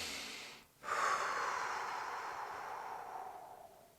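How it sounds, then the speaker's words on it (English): Breathing for a physiological sigh: a sharp inhale, then a long, steady exhale through the mouth that fades slowly, close and alone. "The physiological sigh is a simple breathing technique whereby you inhale twice, but then you exhale for longer."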